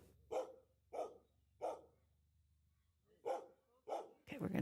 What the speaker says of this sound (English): keep barking because she wants the kids to pet her